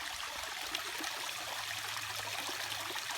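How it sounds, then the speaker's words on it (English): A backyard garden waterfall flows in a continuous, soft splashing rush with a gentle trickle, heard alone at moderate distance. "I just love my waterfall."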